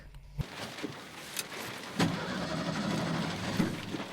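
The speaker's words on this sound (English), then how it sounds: "Bottoming out in the middle of one of the massive craters." A truck bottoming out in a huge crater on an oil-field road, a sharp low thump followed by rattling cab and chassis noise over steady engine rumble.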